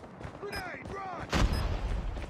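Grenade blast from Call of Duty multiplayer gameplay: a loud, broad explosive boom erupts about midway after whistling effects, leaving a heavy rumbling tail, with gunfire-like game sounds around it.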